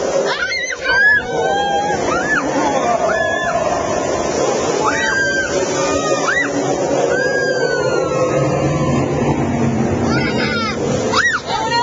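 Water rushing and splashing on the Grizzly River Rapids raft ride at California Adventure, a loud continuous roar of churning water under excited shouting and screaming riders.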